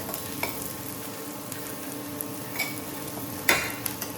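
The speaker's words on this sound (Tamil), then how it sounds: "வெங்காயம் நல்லா வதங்கிட்டு இருக்கு." Onions sautéing in a pan give a steady, close sizzle, with occasional scrapes and taps of a spoon stirring them; no one talks.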